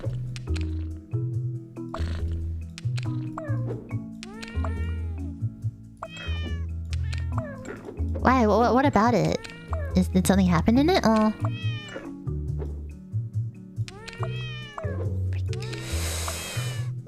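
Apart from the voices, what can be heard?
cat meowing in a video game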